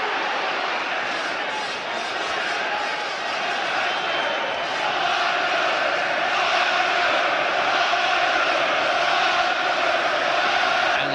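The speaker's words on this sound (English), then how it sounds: "Crowd roaring now for Ben." A boxing crowd roars at a WBC world super middleweight title fight, a loud, dense, sustained wall of cheering and shouting throughout, with no clear gaps.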